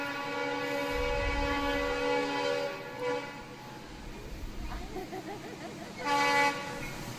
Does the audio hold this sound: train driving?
yes